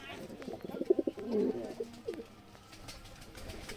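Pigeons cooing close by in a breeding loft while feeding chicks, a soft throaty burst of several coos in the first couple of seconds, then quieter background noise.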